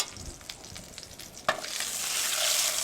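A free-range Label Rouge capon from Vendée, just turned in a hot pan, sizzles and fries steadily, the crackle swelling louder after a sharp clack partway through.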